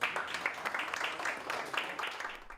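Board members of a social security fund's administrative council applaud together, a steady patter of clapping from a small group held at a moderate level throughout.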